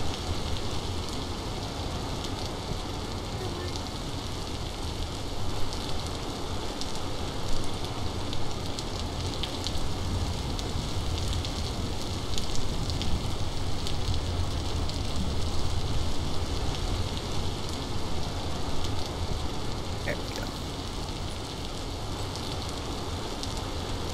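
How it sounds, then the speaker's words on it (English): Steady, faint rain falls in the survival game Vintage Story, a continuous soft hiss and patter with no voices, unchanging for the full stretch. "Because you can hear the rain a lot better on the surface."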